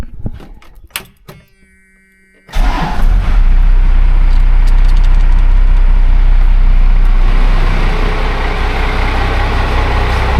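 Old farm truck engine catching after a few faint cranking clicks, then running loud and steady with a rough rumbling idle close by.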